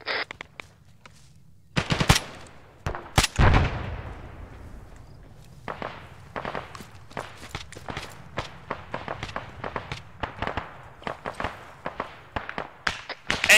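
Rapid bursts of automatic gunfire and single shots crack through an ArmA 3 firefight among rocky cover, loud and close, with scattered footsteps and movement between volleys.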